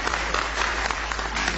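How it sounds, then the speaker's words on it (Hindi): Audience applause at a live Hindi poetry and speech event in Lucknow: a steady wash of clapping that fills the whole stretch at even, fairly loud level, with no voices on top. "जोरदार ताली बजा दीजिए"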